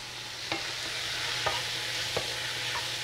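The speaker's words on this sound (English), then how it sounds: "I'm gonna stir around our bacon just one more time." Bacon fries in a pan with a constant hissing sizzle while a utensil stirs it, producing three distinct scrapes spaced about a second apart. No speech is present.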